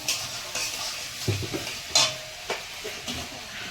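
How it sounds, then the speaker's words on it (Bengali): Onions fry with a soft sizzle in a pan after ginger-garlic paste, with a few scraping stirs and clinks of a utensil, close by, no talking. "পেঁয়াজটাকে একটু লাল লাল করে ভেজে নেব"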